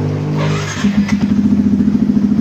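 A Yamaha MT-15 motorcycle engine catches and settles into a loud, steady, close idle with a rapid even pulse, heard alone without talk.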